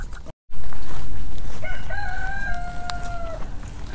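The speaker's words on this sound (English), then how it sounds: "There's chickens" A rooster crows loudly and close, a long drawn-out call over a steady noisy farmyard background of chickens, with ducks also kept nearby.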